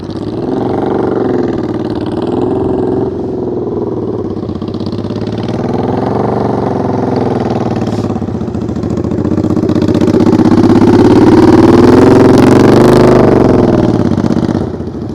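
A motorcycle engine idles and revs in short surges during slow-speed riding practice. It sounds close and loud, swelling to a stronger, sustained rev near the end before it eases off.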